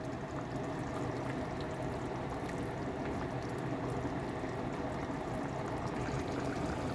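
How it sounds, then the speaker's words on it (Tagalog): Cornstarch and water thickener poured into simmering pork igado in a pan, a steady continuous liquid pour and bubbling hiss, close and even throughout. "Lagyan natin ng konting pampalapot, cornstarch at saka tubig."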